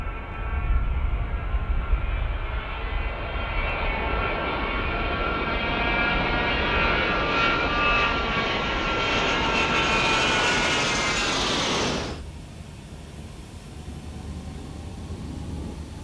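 Jet aircraft fly in formation at the RIAT 2002 air show at RAF Fairford, heard from within the formation as a loud, sustained engine roar with a rising whine that cuts abruptly to a quieter rumble.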